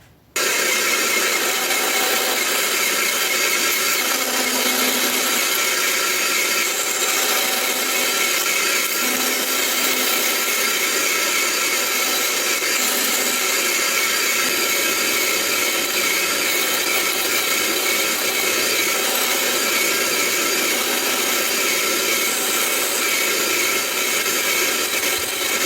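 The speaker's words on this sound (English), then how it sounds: "So let's start by cutting this out on the bandsaw." A bandsaw cuts a rough shape from a workpiece for a homemade river tube motor mount, giving a loud, steady, unbroken whine and rasp that runs the full length with no talking.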